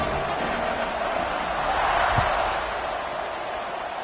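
A football stadium crowd buzzes steadily after a score, a broad, sustained roar of many voices filling the space at fairly even loudness, with a brief thump partway through.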